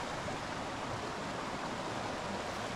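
Creek water flows steadily over rocks in a Smoky Mountains rock garden during autumn camping, a continuous broadband rushing wash, fairly soft and unbroken, with no voices.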